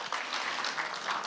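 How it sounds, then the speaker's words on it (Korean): Audience applause at a defense-industry talk concert greeting five expert panelists onto the stage: a steady, dense wash of clapping from a crowd, even in level throughout the short stretch. "여러분들 큰 박수로 환영해 주시기 바랍니다"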